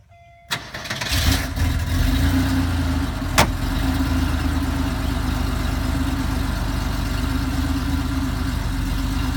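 A Porsche 911 RS America engine cranks and catches, rising briefly, then settles into a loud, steady idle with a low rhythmic thrum, recorded close with no talking.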